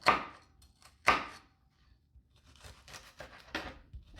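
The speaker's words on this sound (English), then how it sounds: "we are going to slice each half" A knife cuts through an onion on a cutting board with two crisp chops, then a series of softer slicing crunches, close and quiet with no talking.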